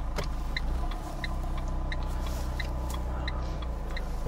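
A car idles as it slowly pulls out of a parking space during a manoeuvring lesson, with a low steady engine hum and an evenly spaced ticking indicator clicking throughout, no talk.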